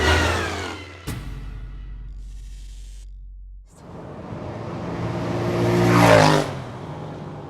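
A car drives along a road, its engine rising into a loud, close revving surge before easing back, with a brief pause and shift in between and no talk.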